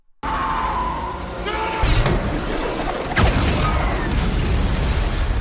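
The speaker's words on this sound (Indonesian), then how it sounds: "Scott datang dan langsung menembakkan bom ke belakang zombie itu dan meledak dari belakangnya." A bomb fired at a zombie's back explodes in a film scene: loud, dense blasts with crashing bursts and rumbling debris that keep roaring for several seconds.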